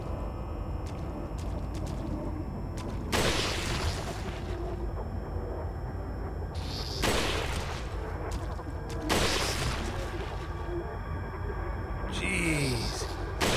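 Rifle shots from Resident Evil 4 (2005) ring out as about four loud, spaced blasts with broad crackling tails, layered over a steady game ambience.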